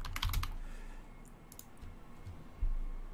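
A text prompt is typed on a computer keyboard: quick, soft bursts of keystroke clicks with short pauses between them, close and fairly quiet.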